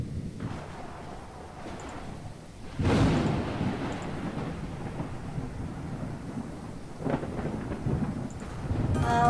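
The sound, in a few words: thunderstorm in Max: An Autistic Journey video game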